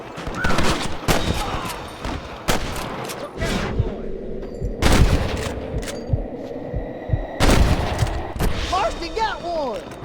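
Gunfire in the Red Dead Redemption video game, sharp broadband shots ringing out irregularly through a shootout, several loud blasts standing out over a throbbing low rumble and background game noise, with voices shouting between the shots.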